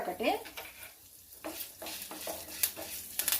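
Dried red chilli frying in a pan for a cucumber chutney, giving a soft, crackling sizzle with light stirring scrapes that come and go in short bursts.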